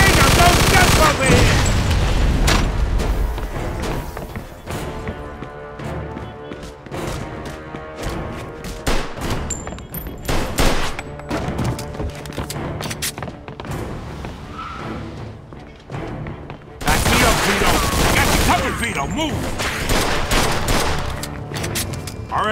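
Sustained gunfire from a Mafia II shootout, dense rapid bursts of shots rolling on and off across the scene with heavy blasts near the end, mixed with shouted dialogue.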